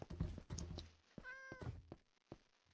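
Cat in Minecraft, a single short rising meow amid soft knocks and thumps from the game, faint overall.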